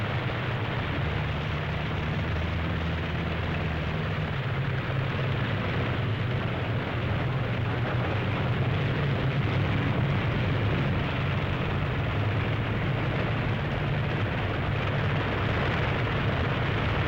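WWII P-47 Thunderbolt fighter planes taking off in pairs on a runway, a loud, continuous roar of big radial engines with a rumbling low drone, dense and steady throughout.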